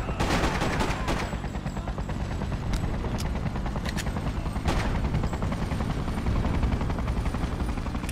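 Rapid bursts of gunfire from the video game Freedom Fighters crackle steadily, with several sharper individual shots over a dense, continuous battle din and no voices.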